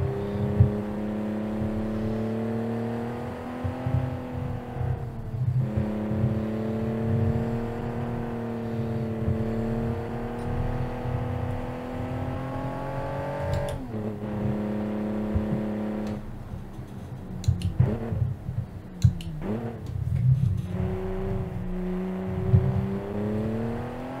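A rear-engine sedan in BeamNG revs and accelerates on twisty mountain roads, its engine note climbing steadily in pitch, easing off briefly mid-run, then pulling hard again, loud and continuous throughout with no talk over it.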